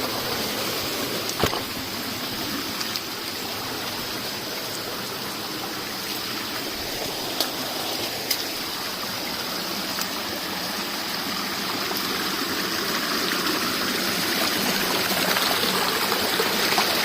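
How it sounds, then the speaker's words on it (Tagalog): A small forest stream flows steadily with a broadband wash of water, constant and fairly close, with no voices over it. "Maliit na sapa lang ito mga boys."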